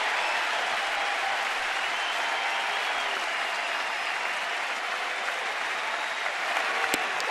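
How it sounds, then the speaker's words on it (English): A large crowd at a Nationals–Braves baseball game in Washington roars in a continuous, even wash of cheering and clapping that holds steady for several seconds. "all of a sudden, this crowd is making some serious noise"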